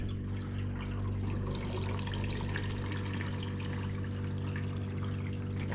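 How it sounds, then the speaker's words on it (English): Water pours steadily into the filters of an off-grid tiny cabin in the Adirondacks, a continuous close splashing rush over a constant low mechanical hum, with no voices. "Alright, so filling up the filters"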